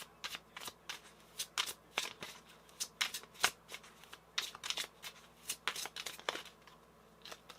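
A deck of tarot cards being shuffled, a rapid series of crisp riffling bursts and soft card slaps repeating throughout, close and clear with no talking.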